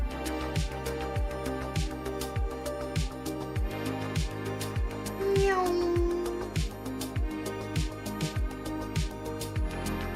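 A single drawn-out meow rises over steady rhythmic background music, near and fairly clear.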